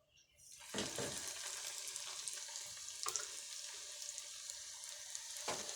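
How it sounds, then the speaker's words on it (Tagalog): Sweet potato doughnuts dropped into hot oil for deep frying, with a sudden burst of bubbling that settles into a steady hissing sizzle, broken by a few sharp crackles as more pieces go in. "i-deep fry natin yung ating donut"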